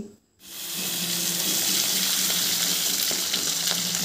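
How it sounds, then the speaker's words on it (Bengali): Khoyra fish sizzling and crackling steadily in hot oil after a brief quiet start, a dense hiss with scattered pops running to the end and no talk. "মাছগুলোকে এবার তেলের মধ্যে ভেজে নিচ্ছি"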